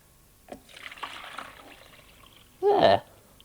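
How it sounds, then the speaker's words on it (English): Liquid jelly poured into a jelly mould, a soft trickle and light splashing through the first half, ending in a brief louder gush, with no talk. "And pour it into my jelly mould."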